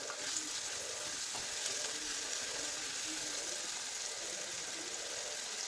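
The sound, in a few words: onion and green chilies sautéing in oil for crab curry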